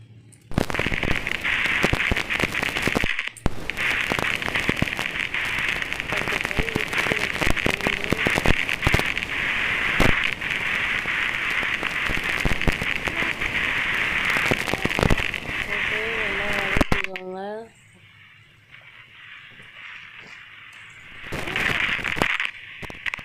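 Cumin, pepper, curry leaves and asafoetida crackle and spit in hot oil while tempering for sambar rice, a loud, dense, steady sizzle with sharp pops that runs for most of the stretch before cutting off abruptly and briefly returning near the end.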